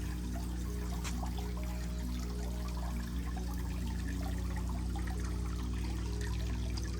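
Water trickles steadily in a small zen pond in a green, lush hotel garden above a river in San Pancho, a continuous close wash of running water with a low hum underneath and no voices.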